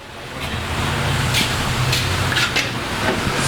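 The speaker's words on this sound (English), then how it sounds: "Spraying the clamps to get them loose so you could take them off easier." An aerosol can of lubricant hisses in several short bursts onto car exhaust clamps against a steady background hum, the sprays fairly close and brief.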